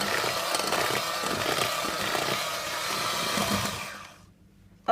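An electric mixer whirs steadily, mixing flour into butter cake batter with a constant buzzing drone, then switches off and winds down near the end, with no talk.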